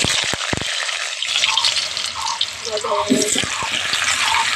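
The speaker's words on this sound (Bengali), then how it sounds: "মধ্যে দিলাম সর্ষের তেল তেল গরম হয়ে গেছে আলুগুলো কেটে রেখেছিলাম প্রথমে আলুগুলো ভেজে নেব" Cut potatoes fry in hot mustard oil for a jackfruit curry, giving a steady, close, crackling sizzle throughout with faint clatter and voices in the background.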